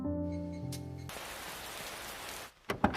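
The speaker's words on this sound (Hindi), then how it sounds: "ओहो, अचानक से ये बारिश शुरू हो गई।" Rain starts abruptly in a Hindi-dubbed anime scene, a steady broadband hiss of downpour swelling in after a tonal music passage and holding loud, then dropping away before a few sharp knocks at the end.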